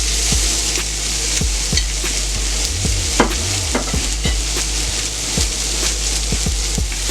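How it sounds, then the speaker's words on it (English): A big steak sears in a hot pan with a loud, steady sizzle throughout, broken by occasional soft knocks and scrapes of utensils nearby. "we're going to put on this big steak here. Got that sear."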